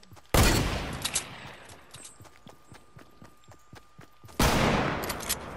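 Gunfire in the video game Fortnite comes as two loud, sudden bursts of blasts with a run of quick, clipped shots or footsteps between them.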